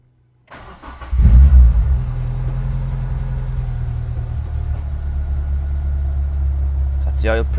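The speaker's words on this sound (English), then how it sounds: "we're going to start the car, make sure the oil pressure light goes out, run it for 30 seconds or so." A Renault Clio 172 Cup cranks and fires up, its engine flaring loudly for a moment before settling into a steady, even idle that runs on close by.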